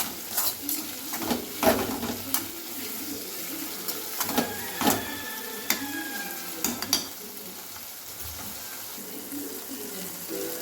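Tomatoes and curry leaves sautéing in a pan for fish soup, giving a steady soft sizzle broken by scraping stirs and a few sharp clinks of a spoon against the pot, with no talking.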